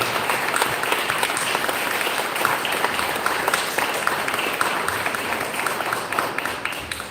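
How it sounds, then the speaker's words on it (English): Sustained, moderately loud audience applause at a memorandum of understanding signing ceremony in Paris, many hands clapping in a continuous even texture with no speech. "so please give her a big round of applause"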